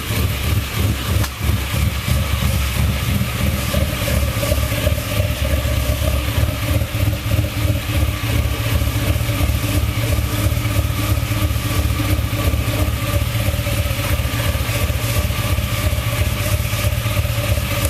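Car engine idling after a cold start, a steady, loud, close rumble with an even pulsing beat that holds for the whole stretch, with no talking.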